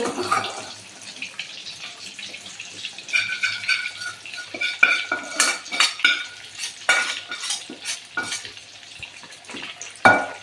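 Chicken pieces for a homemade chicken pickle fry in hot oil, a busy crackling sizzle mixed with frequent metal stirring clinks and scrapes against the pan, close up with no voices.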